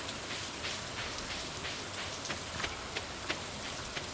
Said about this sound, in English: The warm rain is a pleasant way to get clean.